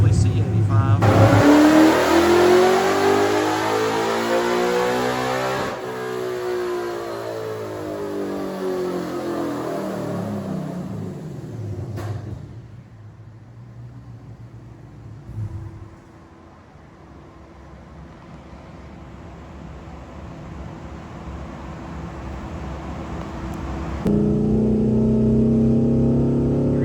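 Ford Coyote-swapped car on a dyno with an E85 tune, a loud engine pulling hard through rising revs, then easing off to a lower drone before revving up again near the end, with voices at times.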